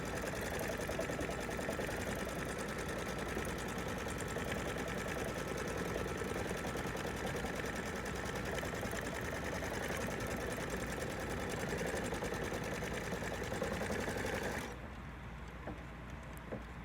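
A Bernina embroidery machine stitches a quilt border with a steady, fast mechanical chatter and hum up close. It stops abruptly near the end, leaving near silence.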